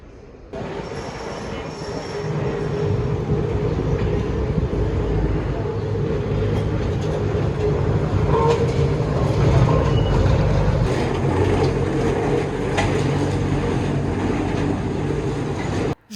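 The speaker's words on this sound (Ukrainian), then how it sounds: "Жовті трамваї це один із символів Лісабону, місто на схилах." One of Lisbon's yellow trams rolls along its rails for a long, steady stretch, loud and close, with wheels grinding and squealing and a continuous rumble underneath.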